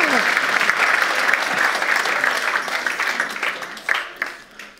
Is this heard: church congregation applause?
yes